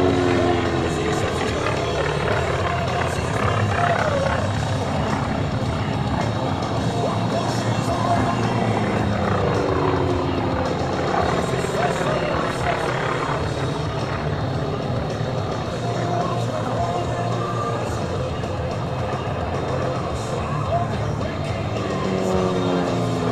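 T-28 trainer aircraft at an air show flying overhead, a continuous loud engine drone with shifting pitch sweeps as the planes circle and pass, steady throughout.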